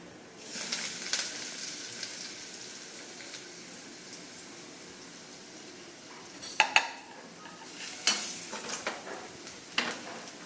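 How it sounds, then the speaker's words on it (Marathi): Spice masala frying in hot oil in a pan, a soft continuous sizzle broken by a few sharp utensil clinks and scrapes against the pan, with no talking. "मसाला चांगला फ्राय करून घेते"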